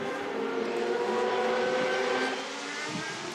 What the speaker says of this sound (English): the 74 car just off the straight and on its way back around